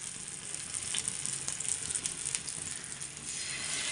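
Fish fries on a low flame in a pan with a continuous close sizzle and bright popping crackles, and a few faint clinks of utensils sound with no speech.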